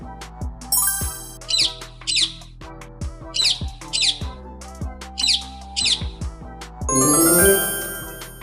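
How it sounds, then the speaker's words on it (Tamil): A parrot gives repeated short, harsh squawks in a rhythmic series over a background of bright chiming music and bouncy tones, each call loud and close. "கிளி,"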